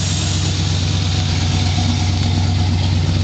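The Cobra 351 V8 engine of a 1976 Ford F-100 Ranger truck idles steadily with a deep, even rumble, loud and close, unchanging throughout.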